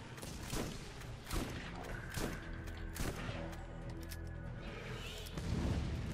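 Shotgun blasts in the video game Borderlands: several heavy, booming shots spaced about a second apart over a rumbling background of combat noise.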